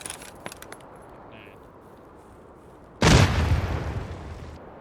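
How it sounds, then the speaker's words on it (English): A grenade detonates in Escape from Tarkov, a sudden loud blast at about three seconds that decays into a long rumbling tail, after quieter clicks and metallic clinks. "I throw a almost perfect nade"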